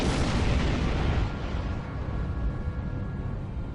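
A heavy, continuous roar of starship weapons fire in the Star Trek Online space battle, loud from the start and easing slightly while staying dense throughout.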